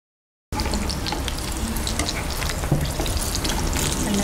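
After a half-second of silence, mustard seeds, cumin and green chilies hit hot oil in a loud, dense, continuous crackling sizzle with scattered pops.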